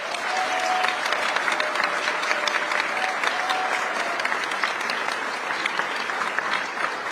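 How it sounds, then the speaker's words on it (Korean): Sustained, dense applause from a large audience welcoming the Korean president during a San Francisco overseas Korean community event, steady and loud throughout with a few faint cheers mixed in. "이재명 대통령께 뜨거운 응원의 박수 부탁드리겠습니다."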